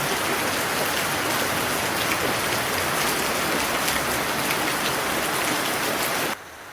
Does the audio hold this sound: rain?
yes